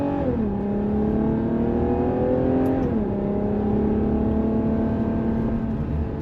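A Ferrari engine drones steadily while driving in Dubai traffic, heard from inside, with the pitch dropping twice as it shifts gears under a constant loud road rumble.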